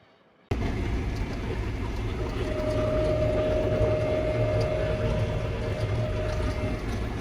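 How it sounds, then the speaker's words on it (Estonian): An old farm tractor engine on an Australian farm runs loudly. A short quiet moment gives way to a heavy, steady rumbling roar that stays close and constant to the end, with no talking. "see vana traktor ilmselt lärmab nii palju"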